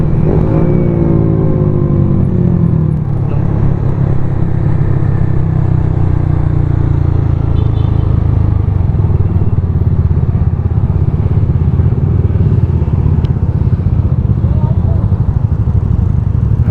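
Several motorcycles ride fast at night, engines droning loud and steady with a deep low rumble and wind roar throughout, a brief rising rev near the start.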